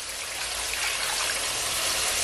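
More than two and a half cups of water pour into a seasoning bowl for curry mushrooms, a steady splashing gush that holds constant for the whole short stretch, close and alone.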